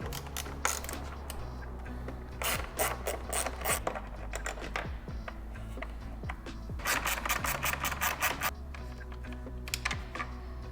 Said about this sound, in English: I'm gonna remove these two 4 millimeter hex also